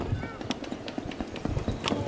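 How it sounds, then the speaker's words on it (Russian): Racehorses gallop toward the finish of a flat race, hooves drumming in quick irregular beats under a race commentator's urgent announcing. "Внимание, лошади на финише."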